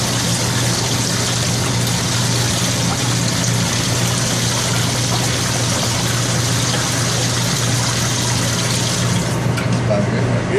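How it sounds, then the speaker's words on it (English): Water pours steadily and loudly into a large pot of Louisiana-style gumbo, a continuous rushing stream that fills the whole stretch without a break. "All right, a little bit more water."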